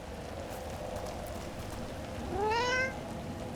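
A single rising meow from a cat in Dragon Age: The Veilguard, fairly close and clear, heard over a constant hiss of rain with no talking.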